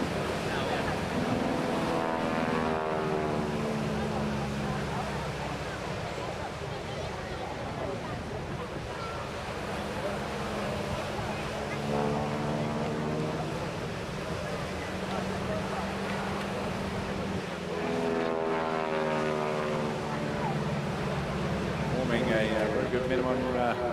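An 81-year-old high-winged propeller aircraft flies display passes at a seaside airshow, its engine drone swelling and fading in long sweeps over wind noise while an announcer talks throughout.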